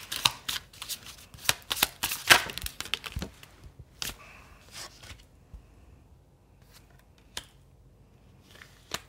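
Tarot cards are shuffled by hand in quick papery riffles and flicks, clustered at first and then thinning to occasional soft slaps, close and fairly quiet.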